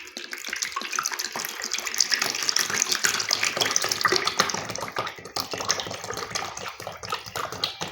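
Two litres of coconut oil poured into a pot for a homemade hair oil, a steady close gushing liquid pour that runs continuously with no talk.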